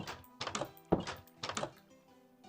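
Door in Minecraft Pocket Edition opening and closing, heard as several distinct wooden thunks in quick succession, each with a short resonant tail, loud and clear with no talking.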